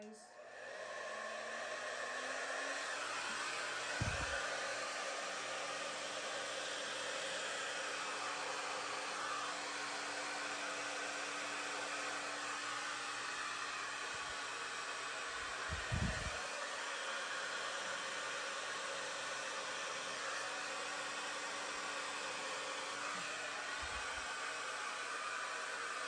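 Fan or hair dryer set to high with cool air blowing across fluid art paint, a loud steady hiss of rushing air with a constant motor hum, close up, broken by a few brief thumps.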